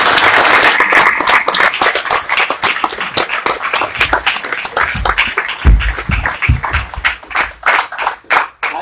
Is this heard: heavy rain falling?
no